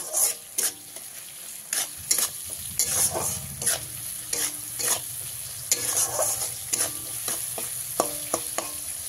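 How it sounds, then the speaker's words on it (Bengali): Tomato stirred with salt in a pan over a medium flame for an okra dish, loud close sizzling and frying with repeated spatula scrapes and knocks against the pan in an uneven rhythm. "টমেটোটা ভালো করে মিশিয়ে নিয়ে"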